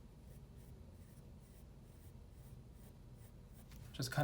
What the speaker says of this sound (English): use another finer point pencil and just kind of pull some of this hair up